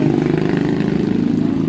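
A Yamaha Mio Sporty scooter with a 232cc four-valve liquid-cooled engine runs loud and close with a low, throbbing rumble, steady and slightly pulsing without clear revs.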